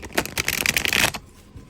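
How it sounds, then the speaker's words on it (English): A felt tarot deck with slippery cardstock is riffled close up, a rapid rustling flutter of cards lasting about a second before it stops. "See how it shuffles."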